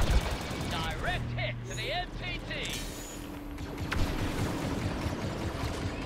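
Gunfire in Star Wars Battlefront 2 multiplayer, bursts of rapid shots over battle noise with electronic chirping effects, while a player talks over the action.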